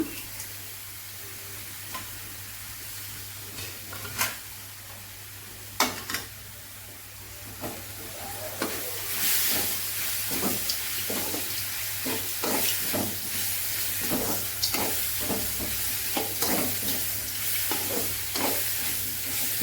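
Greens sautéed in a pan with grated coconut and roasted gram sizzle and hiss steadily up close, broken by repeated clattering stirring scrapes that get busier toward the end. There is no talking.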